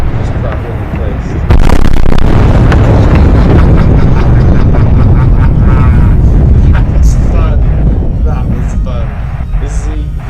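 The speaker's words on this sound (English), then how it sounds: "So you can blow half the fleet with a spread of torpedoes." Torpedo explosions hitting a naval fleet in a video game, a loud, continuous roar of blasts and rumbling booms overlapping with heavy low-end, with a person talking over the chaos.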